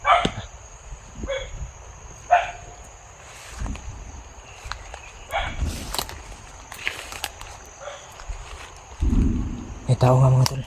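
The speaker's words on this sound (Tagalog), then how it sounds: "Maraming aso eh." Dogs barking at a distance, several short scattered barks mixed with footsteps and rustling, with people talking intermittently nearby.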